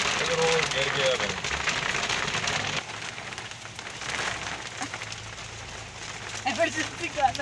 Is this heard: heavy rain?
yes